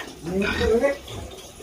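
A pig kept on a small backyard farm grunts while being fed, a short rough burst of snorting close by, with someone talking over it.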